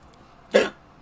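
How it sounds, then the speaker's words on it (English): A single short hiccup, close and fairly loud, standing out alone against near silence. "Too many hiccups."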